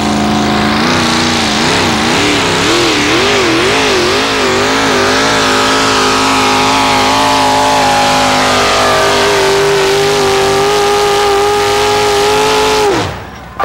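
A tractor-pull vehicle's engine screams at high revs, loud and close, its pitch wavering and then holding steady before cutting off sharply at the end.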